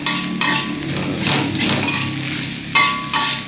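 Nasi goreng is stir-fried in a pan, with sizzling and repeated scraping strokes of a utensil against the metal heard up close. Clanks come every half second or so.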